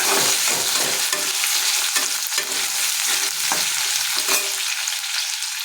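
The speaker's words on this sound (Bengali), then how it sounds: "হালকা মতো একটু লবণ দিয়ে দিই, যাতে পেঁয়াজটা তাড়াতাড়ি করে ভাজা ভাজা হয়ে যায়, নরম হয়ে যায়।" Onions frying in oil in a pan on a gas stove, a loud, close, continuous sizzle broken by stirring scrapes, tapering slightly toward the end.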